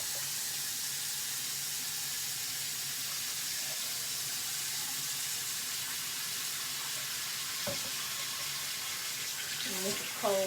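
Cold water pours steadily from a tap in a continuous close hiss, with a faint voice and a few soft knocks near the end.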